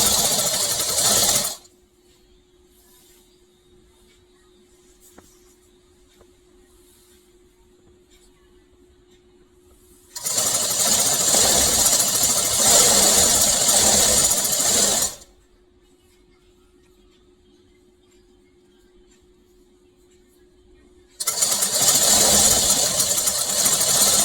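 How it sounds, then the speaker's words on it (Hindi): A sewing machine stitches the fabric of a child's Anarkali baby frock in three loud, close bursts of rapid running. Quiet stretches with a faint low hum separate the bursts. "उसी मेज़रमेंट के हिसाब से हम यहाँ पर स्टिचिंग करेंगे।"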